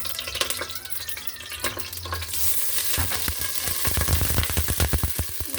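Hot oil spits and sputters loudly as water hits the pan, bursting into crackling, popping sizzles that grow busier toward the end.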